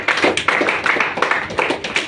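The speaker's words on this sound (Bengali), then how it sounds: "জোরে একটা হাততালি চাই।" Loud, dense clapping from a lecture audience at a Bengali health talk on diabetes, with sharp overlapping hand claps continuing steadily and close throughout.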